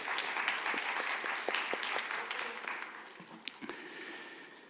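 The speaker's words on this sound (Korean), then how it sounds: "수고했다고 좀 우리 같이 박수로 격려할" A youth worship congregation in a church claps together to thank the volunteers who ran the bazaar. The applause is dense and fairly soft, tapering off near the end.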